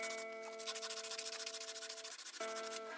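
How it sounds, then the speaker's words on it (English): A file and sandpaper rub burrs off the edge of a steel strip in quick, regular back-and-forth strokes, a close raspy scraping repeated about a dozen times, with no talking. "be sure to remove the metal burrs with a file and sandpaper"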